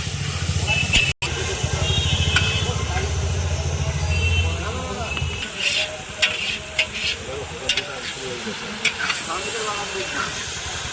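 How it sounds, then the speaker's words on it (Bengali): Cauliflower and other khichuri vegetables sizzle and hiss in a hot pan while being stirred, with scraping and clinking of the spatula, as someone talks over the cooking. "খিচুড়ির সবজিগুলো এবার হালকা করে ফ্রাই করে নিতে হবে।"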